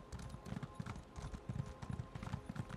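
Horse hooves clip-clop at a steady galloping rhythm in The Elder Scrolls game, a continuous run of close, moderately loud thuds with no voices.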